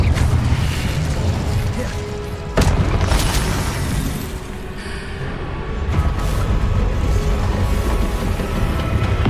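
A fire spell blast bursts out in the Hogwarts Legacy video game as a loud, dense roar of crackling flame and booms, with a sharp impact about midway, set against continuous game effects and background noise.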